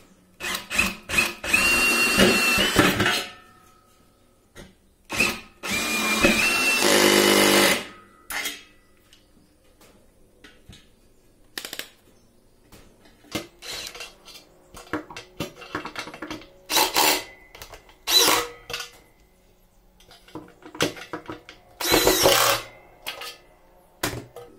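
A power drill drives screws into a metalon metal leg of a rustic wooden table, loud whirring bursts of a few seconds each, separated by quieter clicks, taps and handling noise.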